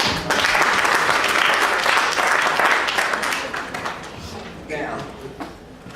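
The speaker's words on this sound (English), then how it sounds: "I'd like you to give yourself a round of applause." A crowd claps in loud, dense applause that gradually thins and fades toward the end.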